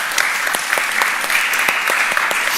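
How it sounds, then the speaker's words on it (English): An audience applauds to welcome panelists at an arts and technology event, a steady patter of many clapping hands with sharp, distinct claps standing out, fairly close and without talk on top. "perhaps a big applause"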